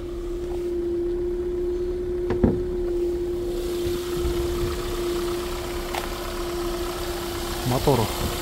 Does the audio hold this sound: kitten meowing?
no